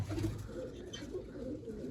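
Large pigeons coo in soft, repeated low throaty calls, fairly faint and close, with a hint of voices in the background.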